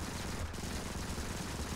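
Assault rifle fire in the video game Modern Combat 5: Blackout, a steady, rapid stream of shots held at a fairly faint, even level throughout.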